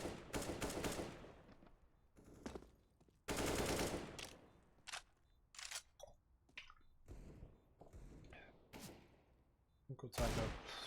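Gunfire exchange in the CS:GO video game involving a Desert Eagle pistol: several sharp bursts and single shots, some loud and close, spread across the clip with brief gaps between volleys.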